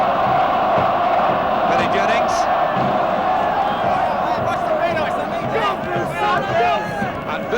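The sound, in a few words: football crowd of supporters on the pitch, 1975 FA Cup final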